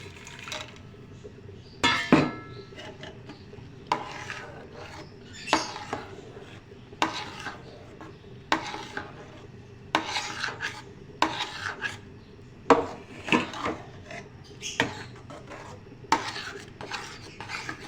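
Suji halwa being stirred and scraped in a pan with raisins added, a rhythmic series of rasping spoon strokes against the metal every second or so, close and moderately loud with no talk.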